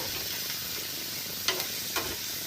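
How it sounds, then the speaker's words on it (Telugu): Bitter gourd pieces and raw prawns sizzle steadily in hot oil, with a couple of sharp stirring scrapes standing out from the constant fry hiss; no one talks. "ఇది ముక్కలు కొంచెం బాగా వేగనివ్వాలండి."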